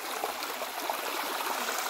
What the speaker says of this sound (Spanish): Miren, amigos, el agüita